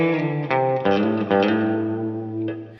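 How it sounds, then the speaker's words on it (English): Electric guitar chords ring out with a wet, splashy spring reverb, several strums sustaining and blending into a lingering wash of echo. "So this is a great spring reverb."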